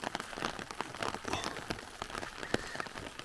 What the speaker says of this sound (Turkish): Ya güzel yağmur ya sağanak ama çok güzel yağmur ya.